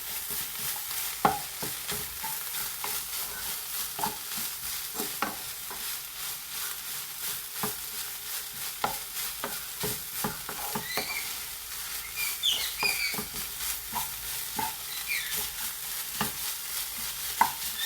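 Spinach stir-fry (cheera thoran) is stirred in a pan over a medium gas flame, with repeated soft scraping strokes at an irregular rhythm over a gentle, constant sizzle, close by and without talking.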